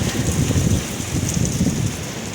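Heavy rain with hail pouring down in a continuous loud hiss, with a low rumble of wind underneath and no voices.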